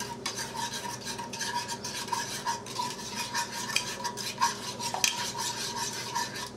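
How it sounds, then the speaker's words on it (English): A spoon stirs and scrapes through meatloaf mixture in a bowl, a continuous close-up mixing with small rhythmic clinks and squelches and no talking. "Go grab yourself a spoon. just go ahead and start mixing her up a little bit."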